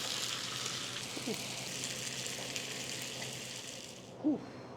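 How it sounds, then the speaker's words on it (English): Spicy Korean pork, jeyuk bokkeum, sizzles steadily in a hot pan, a constant crackling hiss close by, with a faint voice or two murmuring underneath. "It's still sizzling too."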